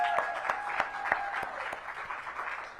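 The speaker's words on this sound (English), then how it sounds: "Give her a round of applause." A small outdoor audience at a holiday market launch claps for Director Foster, with a steady patter of hands and several sharper individual claps standing out close by.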